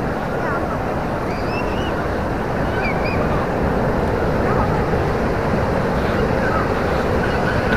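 Steady roar of ocean surf breaking well offshore at Balangan beach, Bali, on an overcast day at low tide with the reef exposed, mixed with wind buffeting the microphone and continuous throughout.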